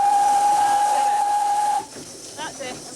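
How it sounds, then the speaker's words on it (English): Steam locomotive whistle blown hard, a loud sustained shrill tone lasting nearly two seconds before cutting off, followed by quieter hiss and faint voices. "Blow the whistle."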